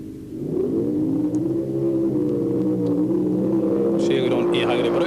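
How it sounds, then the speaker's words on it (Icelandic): Drag racing cars from a 1990 event roar off the line, a loud, steady engine drone that rises slightly in pitch, with a sharper high whine joining near the end. "Og það víst ábyggilegt að þessir bílar hendast áfram"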